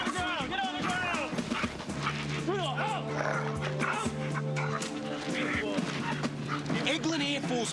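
A K9 unit police dog barks, yips and whimpers during a training exercise at an Air Force base, with loud close barking mixed with shouting voices and commotion.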